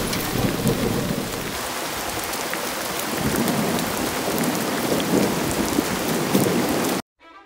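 Steady rain pours down with low rumbles of thunder rolling underneath, continuous and fairly loud, cutting off abruptly near the end.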